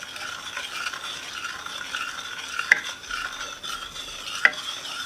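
A spoon stirs seven-minute frosting mixture in a pot as it heats toward 240 degrees, making a soft continuous scraping swish with two sharper metallic taps along the way, no talking.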